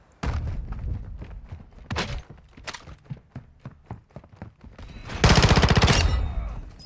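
Lachmann 556 assault rifle fire in Warzone 2 comes as short separate shots and brief bursts, then one long, loud automatic burst near the end, with no voices.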